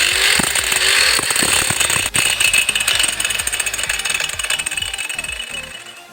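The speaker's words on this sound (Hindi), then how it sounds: "अभी ड्रिल मशीन को ऑन करता हूँ।" An electric drill machine cuts into an iPhone 12 Max Pro, grinding and rattling loudly with harsh, uneven bursts of tool noise that slowly fade.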